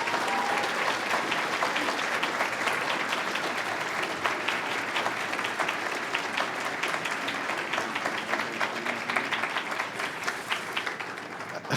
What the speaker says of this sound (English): So I'm going to ask the students, the graduates, should I say now, to applaud all of the people who've helped you to get to here today.